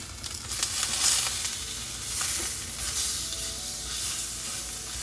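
A tuna steak sizzles loudly in an oiled pan just after being flipped, giving a steady crackling hiss close up, with brief swells and soft clatters, and no voices.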